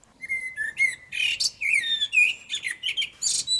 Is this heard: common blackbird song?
yes